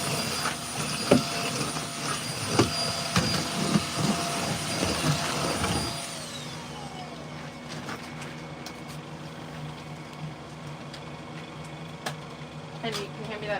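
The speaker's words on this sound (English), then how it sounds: "vacuum when you're done, I'll empty it." A vacuum cleaner runs inside a bus during flooring renovation. Its loud, steady roar lasts about six seconds, then falls to a lower hum, and voices are heard in the background.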